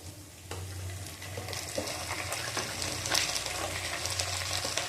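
Ginger paste frying in a pan for a bhetki fish-bone curry, a dense, continuous sizzle with a low bubbling rumble and occasional spoon scrapes, close and fairly loud, no voices.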